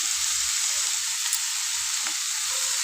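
Turmeric mixture frying over low heat in a pan, a loud, dense sizzle that holds steady from start to finish with no talking.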